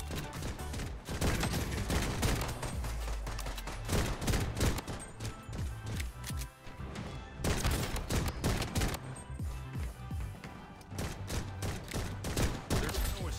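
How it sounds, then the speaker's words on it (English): Pistol fire in the Bloodstrike video game comes in dense, rapid overlapping shots that keep up almost without pause, loud and close, with brief lulls between volleys. "A whole team chasing me with pistols, bro."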